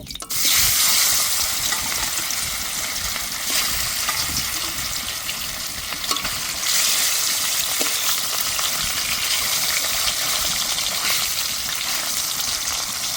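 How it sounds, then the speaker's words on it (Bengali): Catla fish fry in hot oil with a dense, loud, continuous crackling sizzle that persists throughout, close up and with no talking. "আর কটা মাছ আছে, ভেজে নেব।"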